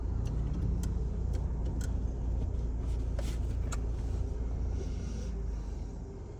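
A car engine hums steadily and fairly loud throughout a driving lesson, a dense low rumble with small clicks and rattles from inside the cabin, and no one talking.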